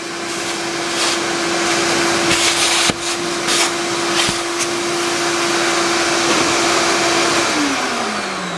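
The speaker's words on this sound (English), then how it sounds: "I should have told you my big secret while the vacuum cleaner was running" A vacuum cleaner runs steadily and loudly in a workshop with a mill, holding a constant hum with a few brief knocks, then its pitch sags as it begins to wind down near the end.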